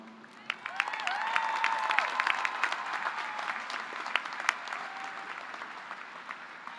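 A commencement ceremony crowd applauds a graduate with sustained, dense clapping and a few sharper claps standing out. Faint whoops rise near the start.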